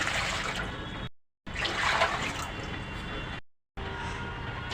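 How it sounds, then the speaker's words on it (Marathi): Water pours steadily into a large cooking pot for boiling rice, in two long, continuous streams with short breaks between them, a full splashing rush close by. "तांदूळ शिजवण्यासाठी मी एका मोठ्या टोपामध्ये पाणी घालत आहे"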